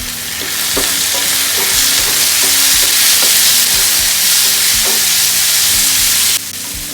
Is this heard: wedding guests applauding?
no